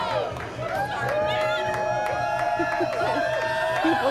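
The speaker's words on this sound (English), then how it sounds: "There it is, the cheering from last" A crowd cheers and roars in celebration of the Packers' wild card playoff win, a loud, dense wash of voices with sustained horn-like tones running through it for the whole stretch.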